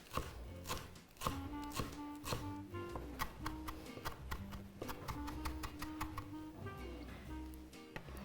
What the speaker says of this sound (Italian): devo tritare un pochino di prezzemolo